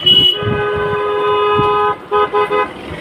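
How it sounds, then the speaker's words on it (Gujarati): A car horn blares close by, first one long sustained honk and then a quick series of short toots, with a passing vehicle's road noise underneath. "હમણાં ગાડીનો હોર્ન મને સંભળાઈ ગયો છે"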